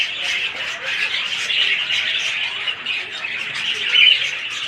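Pet budgerigars in a shop cage chirp and chatter continuously: a dense, bright flock of twittering calls close by, with one sharper squawk near the end.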